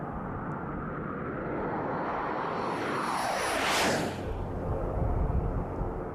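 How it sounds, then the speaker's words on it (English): A corporate jet airplane swoops past the camera in a dive, a broad roaring rush that builds and peaks near the middle with a sweeping whine, then trails off into low rumble; no one speaks. "we rented a corporate jet"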